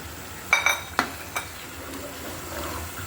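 Beef koftas drop into a simmering curry gravy with a few sharp clinks and splashes close by, followed by a quiet, steady bubbling.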